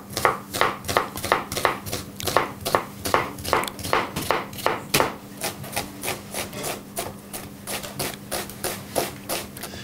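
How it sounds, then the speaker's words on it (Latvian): Onion and bacon being chopped with a knife on a board, a fast, even run of close, crisp blade strikes over several seconds. "jāsagriež ir sīpos speķis un jāliek cepties"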